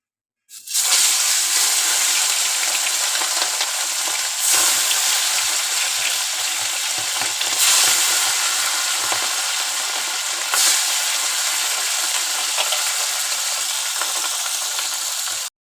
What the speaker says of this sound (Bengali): এখন আমি মাছটা ভেজে নেব। এপাশে আছে চিংড়ি মাছ, এপাশে আছে বাটা মাছ।